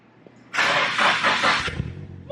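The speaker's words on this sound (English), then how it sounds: "holy shit, the car's on" A Formula Drift V8 Nissan 240SX fires up with a sudden loud roar and settles into a rough, steady idle, close and alone with no talking.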